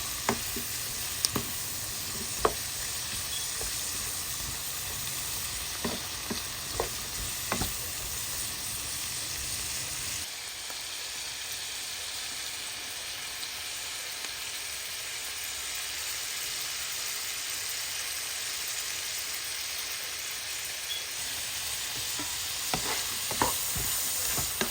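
Capsicum being stir-fried over raised heat for chicken chow mein, a steady loud sizzle with scattered sharp stirring clicks and scrapes, the hiss easing partway through.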